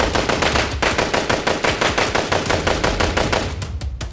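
Rapid gunfire from an action-drama shootout: dense, loud, unbroken bursts of shots rattling for about four seconds, close and alone with no voices.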